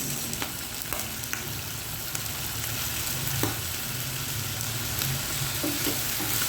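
Beef asado frying in a pan with oyster and soy sauce, giving a steady close sizzle and occasional clicks of a utensil stirring through the meat, with no talking.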